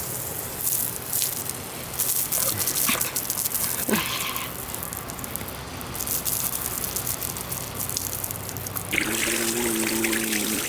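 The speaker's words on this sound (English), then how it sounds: "Flush all that oil out." Hot used engine oil pouring out of a car's drain into a pan, a steady close splashing trickle running throughout, with small clinks and a brief hum near the end.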